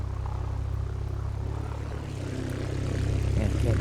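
A twin-engine plane in a flight simulator game drones steadily with a low, constant engine hum that grows slightly louder toward the end.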